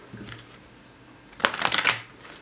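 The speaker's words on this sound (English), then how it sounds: "one more shuffle" A quick flurry of tarot cards being shuffled, crisp riffling bursts clustered together, close and fairly loud against a quiet background.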